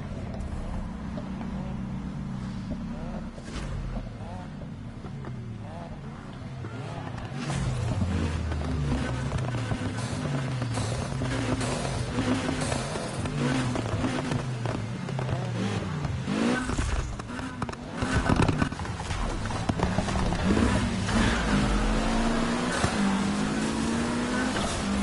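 Racing car engines in Need for Speed Heat on PS4 rev and shift repeatedly, with rising and falling pitch sweeps, loud and continuous, with a few sharp bursts toward the end.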